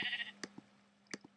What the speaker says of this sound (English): Is that a sheep? Yeah, that's a sheep.